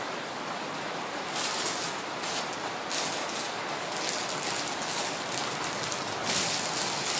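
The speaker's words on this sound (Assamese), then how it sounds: "হয় হয় বৰষুণ দিছে।" Steady rain falling during an outdoor market sale, a dense even hiss filling the whole clip at moderate level, with slightly heavier bursts of patter partway through and no voices.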